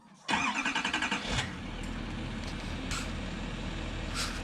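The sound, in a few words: 2019 Chevy 2500HD Duramax diesel truck engine starting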